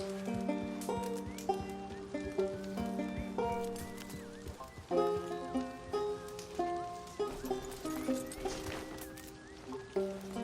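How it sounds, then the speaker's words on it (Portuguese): A horse approaching in the Red Dead Online game world in winter: steady clip-clop hoofbeats under a layered musical score with sustained tones, faint and even, with soft rain-like texture in the background. "de repente escuto alguém se aproximando a cavalo"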